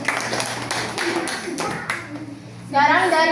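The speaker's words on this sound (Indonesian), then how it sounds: "Oke, tepuk tangan dulu untuk kelompok Singa" Classroom of students clapping for a group that just presented, a burst of hand claps near and fairly loud, followed by a voice speaking.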